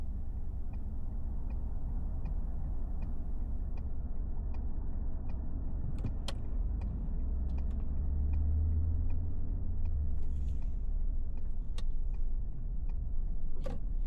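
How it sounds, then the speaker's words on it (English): Sunday noon car traffic on North 2nd Street in Raton, heard from inside a car as a steady low engine and road rumble with occasional clicks and ticks, a swell of passing vehicle noise midway. "This is all church traffic."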